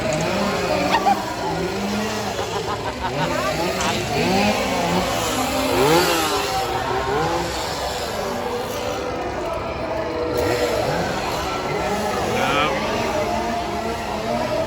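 A chainsaw engine revs and whines continuously amid a busy crowd at a Halloween Horror Nights scare zone at Universal Orlando, with voices and shouts layered underneath throughout.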